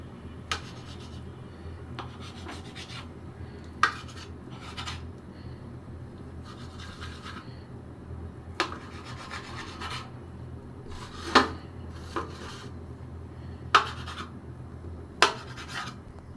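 A knife slices a boiled egg into pieces on a board, with soft scraping strokes and light taps repeating at irregular intervals over a quiet room background, close and fairly faint, with no talking.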